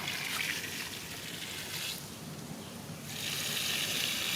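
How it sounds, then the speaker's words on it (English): Water flows steadily from a homemade free-energy pump at a deep old well, a continuous trickling, splashing rush at moderate volume that briefly softens midway before swelling again. "you can see the water flow here"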